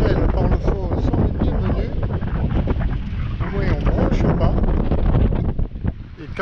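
Strong wind buffets a sailboat lying at anchor, a dense continuous roar of gusts striking the microphone, loud and unbroken throughout, with faint voices partly buried beneath it.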